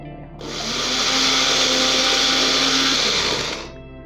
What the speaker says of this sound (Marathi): आणि पाव कप आपण सुक खोबरं घेतलेलं आहे आणि ह्याचं आपण वाटण तयार करून घेऊया